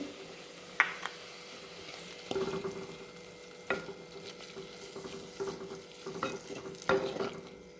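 A coconut, onion, garlic and ginger paste fries in a pan, with a faint, quiet sizzle broken by scattered stirring clinks and scrapes.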